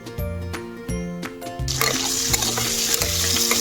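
Mango pieces fry with salt in oil, the hiss rising into a loud, steady sizzle partway through, under rhythmic background music.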